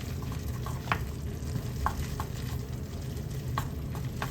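Wild porcini mushrooms frying in a pan over medium-high heat, a steady close sizzle broken by repeated scraping strokes of a spoon as they are stirred.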